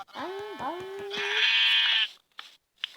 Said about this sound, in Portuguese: Ah, galinha não, ovelha.